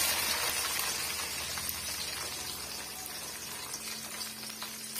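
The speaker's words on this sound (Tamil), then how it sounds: "சேர்த்துட்டு நல்லா வந்து வதக்கி விட்டுடுங்க" About thirty small chopped onions sautéing in oil for Chettinad brinjal curry, a steady dense sizzle and crackle throughout with faint stirring, no talk.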